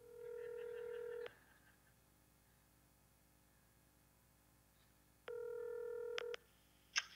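A phone on speakerphone dials out with a sustained two-tone keypad beep, a pause of faint hiss, then another long tone and a few short clicks and beeps near the end.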